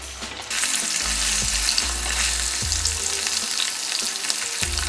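Oil sizzles and crackles steadily as paneer fries close by, a loud continuous hiss with a few soft knocks from the pan.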